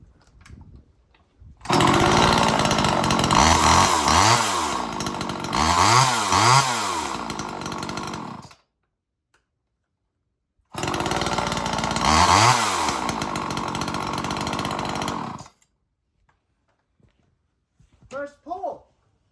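Old small chainsaw without a chain brake, cold started for the season: two long bursts of loud, close two-stroke engine running with revving surges, separated by a pause, then quiet with faint brief sounds at the end.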